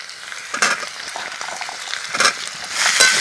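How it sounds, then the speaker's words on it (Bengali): Potatoes and green beans being stirred together in a pan, a bright frying hiss with scraping spatula strokes that swell in short bursts, close and alone without talk. "আলু বিনস আমি একসাথে নাড়াচাড়া করে নেব"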